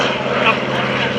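An F4U Corsair, a carrier-based propeller fighter from 1942, flies past at an airshow, its piston engine giving a steady droning roar with a public-address announcer talking over it.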